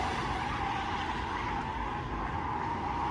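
A car braking and skidding in an audiobook sound effect, a sustained harsh tyre-scrubbing hiss over a low rumble, loud and steady for about three seconds.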